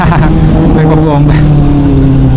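A 2024 Kawasaki ZX6R motorcycle engine runs loud and close, a steady engine drone with harmonic tones that lift slightly as it revs, with people talking over it throughout.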